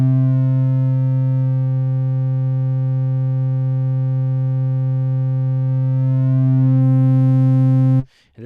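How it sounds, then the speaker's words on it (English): A Bitwig Studio polysynth plays through a distortion effect, holding one buzzy, harmonic-rich tone at a steady level for about eight seconds before it cuts off abruptly. "this can really give us even more interesting characteristics to our distortion."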